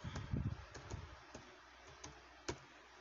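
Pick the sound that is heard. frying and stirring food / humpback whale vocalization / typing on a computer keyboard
typing on a computer keyboard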